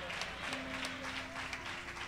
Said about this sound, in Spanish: Usted sabe que esos aplausos son para el Rey.